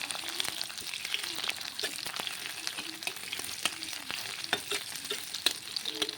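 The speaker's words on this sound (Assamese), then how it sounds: "অলপমান পাঁচফোৰণ আৰু পিঁয়াজখিনি দি অলপমান ফ্ৰাই কৰি ল'ব লাগিব" Onion frying in hot oil with panch phoron five-spice, a steady crackling sizzle broken by repeated stirring scrapes and clicks, heard close with no talking.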